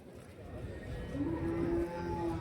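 A cow moos at a cattle market in Vaniyambadi, a single drawn-out low call that rises midway and holds, with market bustle in the background.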